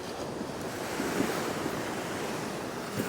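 Sea waves break and wash along the eroding coast at Hemsby, a steady rushing surf with heavy wind buffeting the microphone and no voices.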